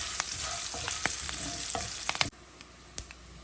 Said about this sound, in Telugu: ఒకసారి అట్లా ఇట్లా తిప్పుదాం.